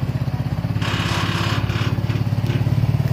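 Small go-kart engine running just after a cold start, a close, loud, rapid putt-putt idle with a rough, uneven note and a brief rev in the middle.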